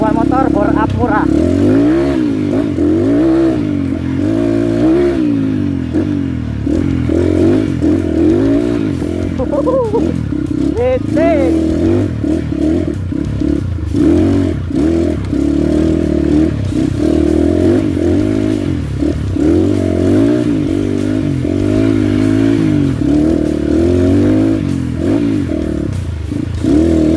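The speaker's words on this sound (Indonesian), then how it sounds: "Kita mainan motor, tes motor, ketangguhan motor, bor up murah." Bored-up trail motorcycle ridden over a rough off-road track, its engine droning loud and continuous with repeated revving swells and clattering from the bike throughout.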